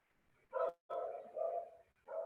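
A house dog barks repeatedly in short bursts, one brief yap followed by a longer run of barking and another bark at the end, close and clear with no talk.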